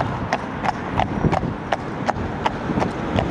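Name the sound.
horses clip-clopping while pulling a carriage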